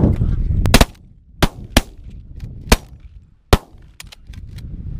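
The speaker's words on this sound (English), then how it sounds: "We might have to shoot them if they cross overhead." Loud shotgun blasts on a goose hunt, about half a dozen sharp cracks at uneven intervals, some in quick pairs. Geese honk nearby and a voice is faintly heard between the shots.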